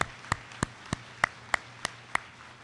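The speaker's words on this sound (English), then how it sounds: "I would like to ask for a round of applause for Captain Takesha Hunt" Sparse, faint hand claps at a Minnesota National Guard Court of Honor ceremony, about eight separate claps spaced evenly, thin and distant rather than a full crowd ovation.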